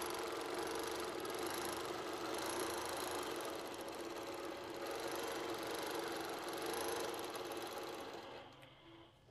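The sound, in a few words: longarm sewing machine straight stitching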